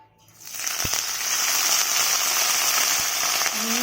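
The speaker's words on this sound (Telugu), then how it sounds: "మింట్ అండ్ కొరియాండర్, పుదీనా కొత్తిమీర రెండు వేసి వేయించుకుంటున్నాను" Mint and coriander leaves hit a tablespoon of hot oil in a pan, bursting into a loud, steady hiss and sizzle after a brief quiet start.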